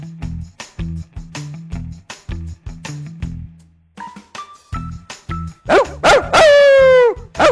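Cartoon dog barking in a comic animated scene, a run of quick rhythmic woofs followed by higher yelps and whining cries at the end, loud and close, with a brief tinkling tone in the middle and no talking.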